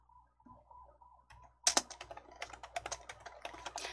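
Computer keyboard keys pressed for an Alt-C shortcut in word-processing software, a short burst of several sharp, close clicks after a quiet hum, then continued lighter typing taps.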